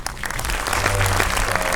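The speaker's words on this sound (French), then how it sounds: "C'est Thibaut Stipal que je vous recommande d'applaudir très chaleureusement." A festival audience breaks into warm applause, a dense, steady wash of many hands clapping at once, close and loud, with a faint voice briefly underneath.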